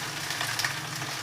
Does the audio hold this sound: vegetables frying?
yes